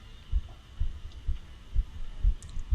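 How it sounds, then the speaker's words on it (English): Heartbeat sound effect in the video game Tyranny, a steady low double-thump pulsing about twice a second over a faint background hum. "I can still hear his heartbeat."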